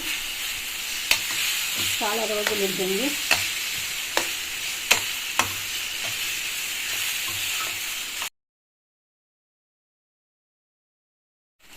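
Hot oil sizzles steadily as spices fry for a raw mango pickle tempering while a spoon stirs, clicking against the pan at intervals; a voice speaks briefly, then everything cuts to silence.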